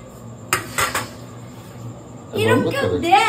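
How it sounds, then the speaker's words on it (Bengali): Two cups being washed at a sink give a few sharp ceramic clinks, followed by a pause and then a voice speaking nearby. "এনে এই কাপ দুটো ধো, আবার কাপ দুটো ধো"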